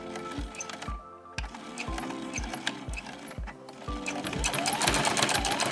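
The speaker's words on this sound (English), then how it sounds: "I am going to do a back stitch here, and I'm going to go all the way around this edge with a 1/2 inch seam allowance" A sewing machine stitches a half-inch seam around the edge of a fabric project bag, running in a steady rapid rhythm of needle strokes, close and fairly loud, slowing briefly before speeding up again near the end.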